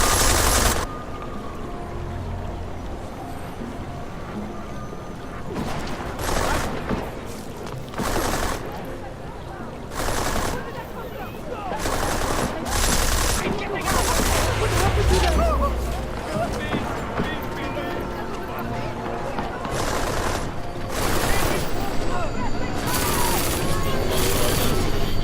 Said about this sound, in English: Is that a gun? Was that a gunshot?